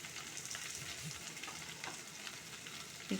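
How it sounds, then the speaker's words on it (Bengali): Spring onion and eggplant sizzle softly in a frying pan while being stirred, a faint, even frying hiss with light scraping movements, brief and quiet. "একটু নাড়াচাড়া করে"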